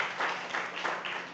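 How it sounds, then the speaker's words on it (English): Audience applause at a cooking competition show fills the room as a steady, dense wash of clapping, swelling in a few waves without pause. "Give them a big round of applause."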